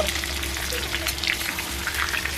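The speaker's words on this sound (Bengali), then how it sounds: "তেল গরম হয়ে গেছে আমি এবার আলুকে ছেড়ে দেবো" Potatoes dropped into hot oil in a wok sizzle and crackle at close range, a dense, even frying hiss with small spattering pops throughout.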